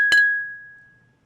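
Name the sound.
glasses clinking during a toast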